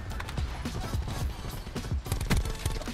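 Rapid S6 Stingray submachine gun fire in Black Ops 4 hardcore multiplayer, with dense repeated bursts of shots throughout, loud and close.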